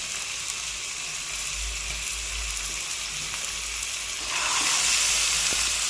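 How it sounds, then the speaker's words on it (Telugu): Marinated chicken frying in ginger garlic paste for a dhaba-style curry, a steady close sizzle that swells louder and brighter toward the end, with no talk. "ఆ చికెన్ అనేది మనం ఇందులో వేసేసుకోవాలి"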